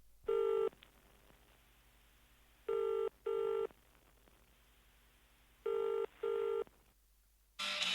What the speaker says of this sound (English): you use the phone, you put your 10p in the box